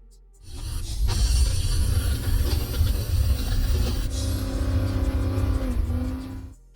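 A racing car engine in the mobile racing game Racing King holds a steady, loud roar for several seconds, with a rising whine toward the end before it cuts off.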